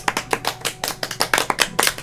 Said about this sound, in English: Everyone clap for Alec and I